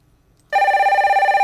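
A mobile phone ringing with a loud, bright electronic tone that starts abruptly after a short silence and holds steadily, close by, with no talking.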